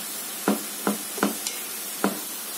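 Filling being stirred in a pan for a phyllo (goulash) pastry, with a spoon scraping in short separate strokes, about five in a row and fairly close, with no talking.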